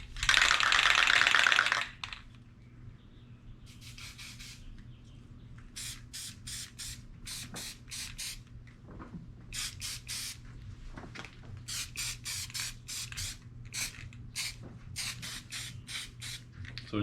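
Red spray paint hisses onto a canvas in one loud, sustained burst, followed by a series of short, separate spray taps of varying length, each one quieter than the first.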